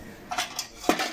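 A metal cocktail cooling bucket is handled, giving two or three light, quiet metallic clinks within about a second.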